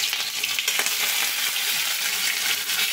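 Tomatoes dropped into hot oil for a Bengali aloo posto dish, a loud, dense hissing sizzle filling the moment, close and continuous with faint stirring; no speech.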